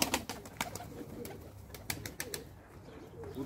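A champion-line racing pigeon that flies in cup races coos softly in its loft, giving several short, close murmuring coos with a little ambient rustle and no talking.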